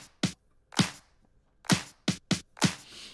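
Sloppy claps from a disco drum beat, run through an SP950 for an older, gritty tone: six sharp, irregular snaps with short gaps between them, fairly quiet and with no other sound.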